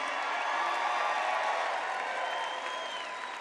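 A big rally crowd in Arizona keeps up a dense wash of applause and cheering, steady and loud before tapering slightly toward the end.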